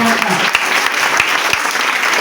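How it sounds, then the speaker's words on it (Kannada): Children at a government higher primary school event clap loudly and together, a brief, dense burst of close applause with a few sharper claps standing out. "ದಯಮಾಡಿ ಜೋರಾದ ಒಂದು ಮಕ್ಕಳು ಚಪ್ಪಾಳೆ"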